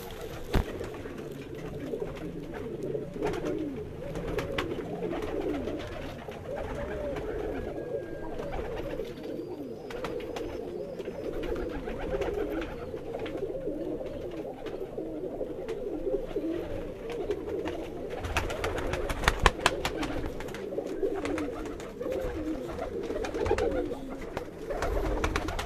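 Pigeons cooing in a loft, a dense layered chorus of low throaty coos running steadily throughout, fairly close, with a brief burst of scuffling or wing noise near the end.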